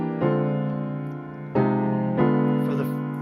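Piano playing drop 2 voiced chords on a melody: three rich sustained chords struck about a second apart, each ringing and slowly decaying, heard up close with no talking.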